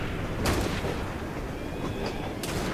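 Gunfire in the video game Assassin's Creed Syndicate: a steady din of shots and booms over a constant noisy background, with a couple of louder bursts near the start and end.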